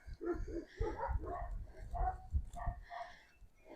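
Faint dogs bark and yip repeatedly in a loose, irregular series, sounding somewhat distant and quiet.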